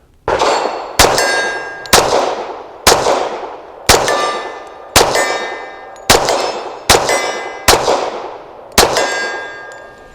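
Nine sharp, loud .45 ACP shots from a Tisas Night Stalker 1911 pistol, fired at a steady, unhurried pace, each with a bright metallic ring and a decaying echo.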